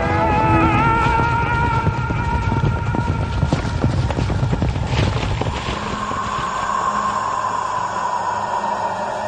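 Horses gallop with a steady rush of hooves clip-clopping over a wind-like roar, dense and fairly loud through the first half before thinning into a sustained tonal hum.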